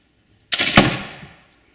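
A steel arrow is fired into a target of 1 mm stainless steel backed by half-inch plywood, giving a single sudden loud crack and metallic impact that rings and fades over about a second.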